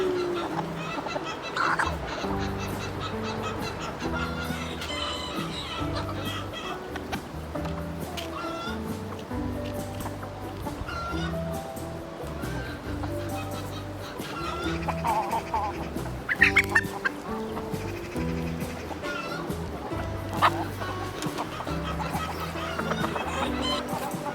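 Hungry chickens cluck and squawk in a repeated busy chorus close by, while someone speaks over them throughout.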